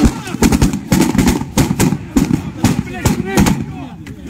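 Rapid bursts of gunfire crack repeatedly in close succession, loud and sharp, with shouting voices mixed in.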